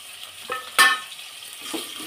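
Spices for Khandeshi khichdi sautéing in a pan: a soft, steady sizzle with a sharp metallic scrape of a spoon against the pan and a few quieter stirring taps, with no talk.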